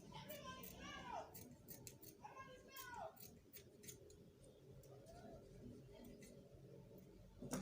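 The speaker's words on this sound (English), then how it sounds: "You can just trim this excess. So just trim it out a little bit." Scissors trim excess fabric while sewing a child's senator top, producing soft close snips and metallic blade slides, a couple of longer cuts early and quieter clicks after, under faint background voices.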